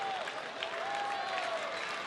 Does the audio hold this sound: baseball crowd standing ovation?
yes